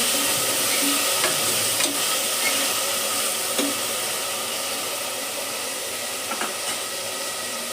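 Kara pongal ingredients frying in a pan with salt, a dense continuous sizzle with a few faint scrapes of stirring, close and steady, no speech.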